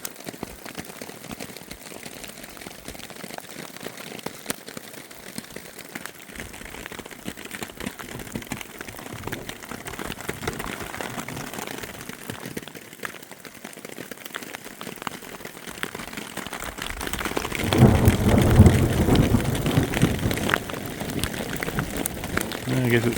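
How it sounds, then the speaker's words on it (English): Rain and hail pelt down during a thunderstorm over a wilderness camp in the Golden Trout Wilderness, a constant pattering hiss that grows heavier and louder toward the end. "Yeah, it's raining, hailing. Right over us right now."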